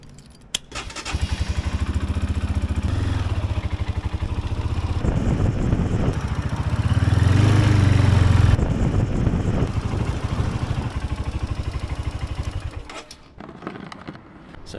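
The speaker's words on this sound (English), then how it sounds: "So the first thing to do is warm the engine up." A motorcycle engine, on a solo camping trip across Australia, starts up and runs to warm up, a close, loud, rapid steady putter that swells slightly mid-run before cutting off near the end.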